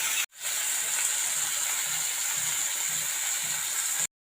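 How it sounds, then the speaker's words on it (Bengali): Fish fry in hot oil in a kadai on a gas stove, giving a steady, loud, close hiss and sizzle with no talking that stops abruptly at the end. "তেল তো গরম হয়ে গেছে। পরপর মাছগুলো দিয়ে দেব।"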